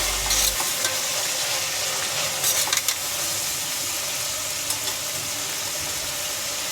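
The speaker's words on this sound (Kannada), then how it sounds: "ಇದನ್ನು ಒಂದು 10 ನಿಮಿಷ ಚೆನ್ನಾಗಿ ಫ್ರೈ ಮಾಡ್ಕೊಳ್ಳೋಣ ಆಯಿಲಲ್ಲಿ." Vegetables for a pulao fry in oil while being stirred, a loud, dense, continuous sizzle with scraping stirs and clinks of a spoon against the pan, close up and steady throughout.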